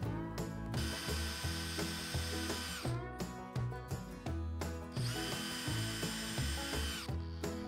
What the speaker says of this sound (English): I just drilled out a slight bit underneath where the keyhole hangers went